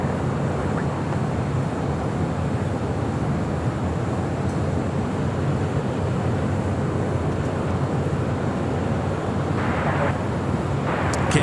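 A Boeing 787-10 Dreamliner jet arrives at LAX, a steady broad roar of the jet mixed with wind buffeting the microphone, continuous and fairly loud throughout.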